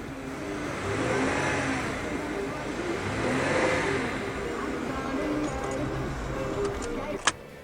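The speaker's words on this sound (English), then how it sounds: "Revs fine, all good." A car engine revs up and down in a couple of moderate swells after its ignition coils were replaced, then holds a steady running hum. A short sharp click sounds near the end.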